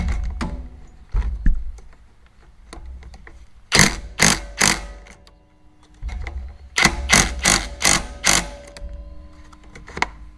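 Ratchet tightening the bolts of a small engine's cooling fan cover, heard as close, sharp bursts of rapid clicking in two separate clusters, with scattered taps and handling knocks between them.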